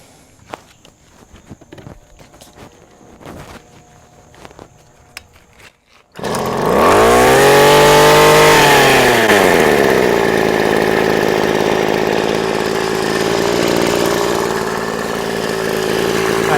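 A Tanaka Bumble Bee 3/4 HP mini outboard boat motor starts after quiet handling noises and settles into a loud, steady idle with a buzzing two-stroke drone that dips briefly in pitch and then holds up close.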